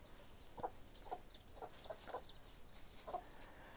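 Chickens, roosters and hens, with small chicks, cluck in short scattered calls over soft outdoor background noise. The calls come at a moderate distance, and no one speaks.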